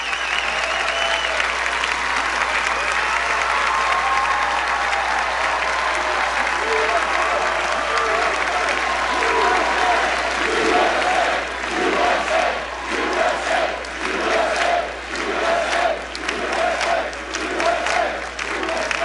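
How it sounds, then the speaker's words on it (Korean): A large crowd applauds during a Trump speech, loud continuous clapping that grows rougher and more uneven midway, with cheers and shouts mixing in toward the end. "이때 가장 많은 박수가 나왔습니다."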